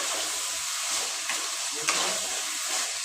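Cabbage stirred in a pan with turmeric and salt, giving a steady soft sizzle and hiss with a couple of faint scraping strokes, close and continuous.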